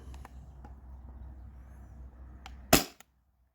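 A modified Sabre 68 home defense launcher fires a single sharp, loud shot near the end, preceded by faint clicks and low background noise, then silence.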